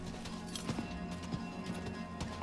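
A horse gallops in the video game Diablo IV, fast, even clip-clop hoofbeats close up, running steadily over soft background game sound.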